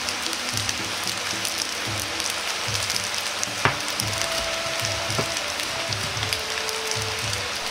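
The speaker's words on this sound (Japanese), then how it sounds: "このまま表面が焼けるまで混ぜたり炒め合わせたりしないで放置しておきます" Yakisoba noodles fry untouched in a pan until crisp, giving a steady, rain-like sizzle and crackle with a faint rhythmic low thump and one sharp click partway through.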